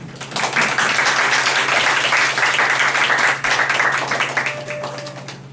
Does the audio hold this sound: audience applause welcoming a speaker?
yes